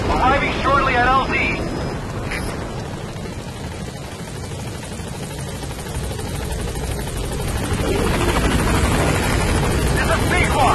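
Helicopter approaching a landing zone in the video game Metal Gear Solid V: The Phantom Pain, a steady loud rotor and engine roar that holds throughout, swelling slightly near the end.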